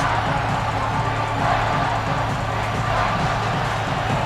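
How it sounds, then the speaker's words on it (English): A stadium crowd roars in the video game College Football 26 during an Alabama vs Oklahoma playoff simulation, as fans try to lift the defense near the goal line. The crowd noise is a loud, dense, continuous roar without any breaks. "This crowd is trying to inspire this defense to make a big red zone stop"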